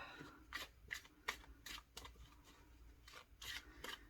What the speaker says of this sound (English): now I'm going to shuffle them up again